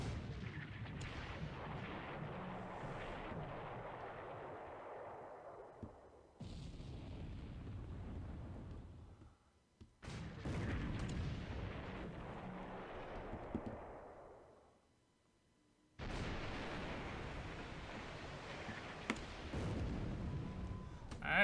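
Big naval guns firing in a WWII video game: long, heavy booming salvos with rumbling tails, several bursts separated by brief quiet gaps, loud and close.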